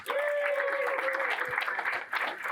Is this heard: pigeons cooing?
no